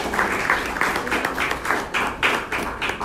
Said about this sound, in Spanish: aplauso para estos maestros,